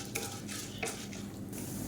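Mustard seeds, urad dal and chana dal frying in hot oil in a pan, giving a soft continuous crackle and sizzle with a few light utensil clinks, close and steady.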